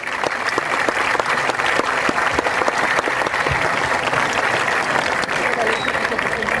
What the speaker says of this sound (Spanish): El aplauso es para ustedes con mucho cariño.